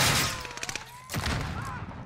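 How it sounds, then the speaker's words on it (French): Rapid gunfire on the Caldera map of Call of Duty Warzone, a quick rattling burst followed by a heavier report, fairly close and sharp. "on peut voir qu'il y a juste à gauche, ça tire"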